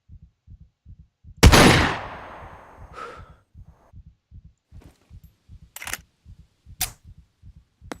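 A single loud gunshot cracks out in the survival video game Scum and decays into a short echo, over a steady rhythmic pulse of footsteps or a heartbeat, with a few sharper clicks later and no talking.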